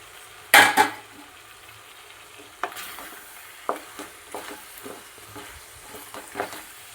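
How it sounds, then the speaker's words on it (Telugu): Chili powder and garam masala are stirred in a hot pan for a village-style banana curry, opening with a loud clank and hiss, then soft sizzling and a steady series of spoon scrapes, close by. "కారం కొద్దిగా పచ్చివాసన పోయేదాకా కొద్దిగా ఫ్రై చేసేసుకొని"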